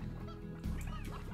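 Poultry in the Slime Rancher video game give short, honking clucks, a few quick calls close by over a quiet ambient game backdrop.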